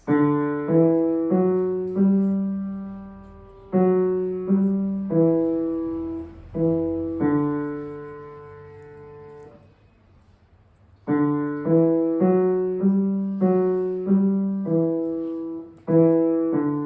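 Piano notes played in a steady four-beat pattern of repeating chords, pausing briefly partway through before the same rhythm resumes.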